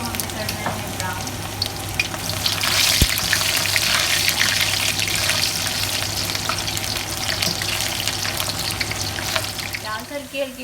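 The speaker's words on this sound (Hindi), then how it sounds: "प्याज को हमें करना है ब्राउन।" Chopped onions frying in hot oil for Pakistani besan karhi pakoras, a steady close broadband sizzle with occasional stirring scrapes and faint trickling, continuous and fairly loud throughout with no talk.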